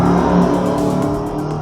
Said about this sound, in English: it's that time of the year, kids, where all the cars without mufflers are going crazy